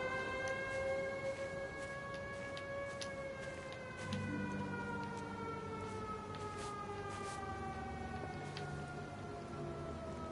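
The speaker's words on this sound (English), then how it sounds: "That just sounds so ominous, you know, considering like World War II sirens." An ominous air raid siren in the video game Everybody's Gone to the Rapture, its long wailing tones sliding slowly downward and sustained over steady rain-like ambience, with a low hum joining partway through.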